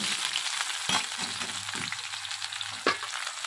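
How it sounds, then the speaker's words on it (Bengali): Cinnamon sticks and other whole spices fry in hot oil in a wok, a close, steady crackling sizzle with a couple of sharper pops or taps. "আর দুটো দারচিনি একটুখানি ফোড়ন হিসাবে দিয়ে দিলাম।"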